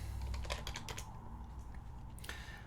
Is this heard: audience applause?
no